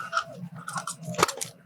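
A crunchy omelette is chewed up close in a string of crisp crunches and bites, with one sharper, louder crunch partway through.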